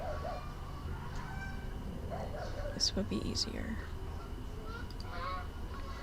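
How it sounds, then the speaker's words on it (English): Canada geese honk a few times near a golf course pond, brief calls in the middle of a windy outdoor recording while a person talks over steady background rumble. "We have Canadian geese here."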